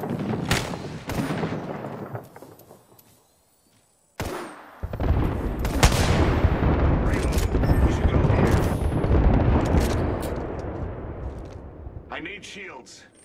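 Gunfire in Apex Legends ranked play, with rapid bursts and heavy booming shots close by, a brief silence, then sustained dense firing and impacts over several seconds, with game voice callouts mixed in.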